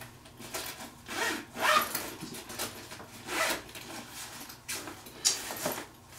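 The front-pocket zipper on a Briggs and Riley slim vertical brief is worked back and forth in several short, scratchy pulls, quiet and close, with no voices.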